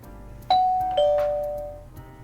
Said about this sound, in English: He then rings the doorbell.